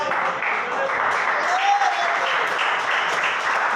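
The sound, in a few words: church congregation applauding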